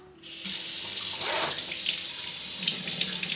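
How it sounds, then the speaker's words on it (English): Hot water pours and splashes steadily into the underside of a clogged dishwasher part near the impeller, a close continuous running-water rush that starts abruptly and lasts to the end. "I'm just throwing water in it."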